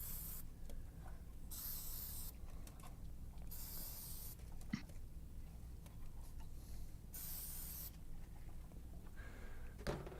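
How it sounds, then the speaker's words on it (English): Flux remover from an aerosol can is sprayed onto a pinball machine circuit board over a trash can, in several hissing bursts of one to two seconds each with short pauses and light handling noises between them. "So I've got this flux remover stuff that I just sprayed all over the board over a trash can."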